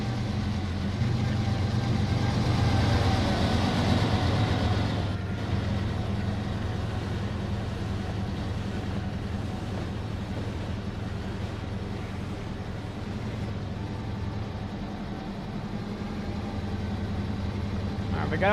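A heavy freight train running at speed through Utah's Provo River area in the video game Trainz, a steady low engine drone and rumble that holds for the whole stretch, with a voice speaking over it.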